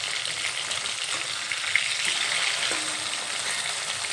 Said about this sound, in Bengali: এখন আবারও অপেক্ষা করব মাছের অন্য সাইডটা ভাজা হওয়া পর্যন্ত